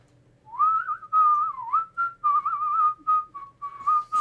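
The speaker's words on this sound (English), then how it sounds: "will you give an example of your whistling?" A person whistling a wavering tune alone, a clear, fairly loud melodic line broken into short phrases and steady held notes over about four seconds.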